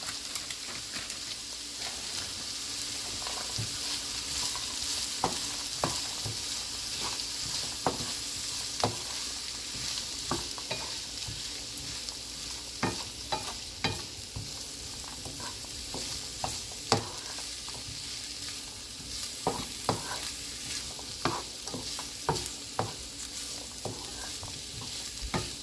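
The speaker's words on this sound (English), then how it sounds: "I'm going to also add my mixed vegetable to it." Vegetable fried rice with sweet corn, carrot and green bean is stir-fried Jamaican style in a pan, with a steady soft sizzle broken by frequent scraping and clicking strokes of the spatula, close and moderately quiet.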